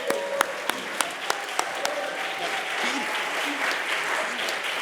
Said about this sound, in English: let's just preemptively give a round of applause for Mr. John Stone, please.